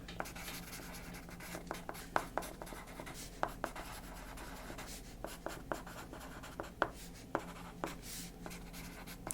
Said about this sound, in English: I'm going to write that down for your Thursday meal